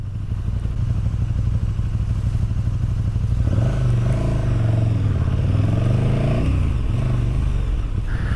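A KTM 1290 Super Duke R with its 1300 cc twin-cylinder engine runs steadily close by, its low throbbing note rising and shifting in pitch midway as the revs change, with some mechanical clatter.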